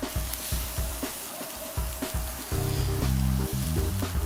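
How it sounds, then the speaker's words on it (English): A veal chop sizzles over direct heat on a grill, a steady crackling hiss close up with sharp scraping ticks, then a brief louder burst of frying as the chop is flipped. No talking. "You're grilling for 5 to 7 minutes over direct heat on each side"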